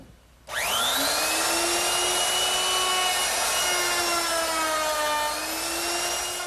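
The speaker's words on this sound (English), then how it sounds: "Okay, now I'm ready to round over the edges on my top. And for that, I'm going to use a 1/2 inch rounding over bit." A router fitted with a 1/2 inch roundover bit starts up and cuts along the edges of a wooden trestle table top, a sudden loud high whine that holds steady and dips slightly under load.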